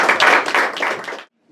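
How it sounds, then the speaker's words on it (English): Audience applause greets a speaker at a reparations community meetup in Temecula, a dense burst of clapping lasting just over a second before cutting off to silence. "So give a welcome applause to my brother."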